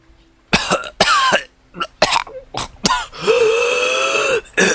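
Several harsh, sputtering coughs burst out close by in quick fits, with gasping breaths and wheezy throat noises between them.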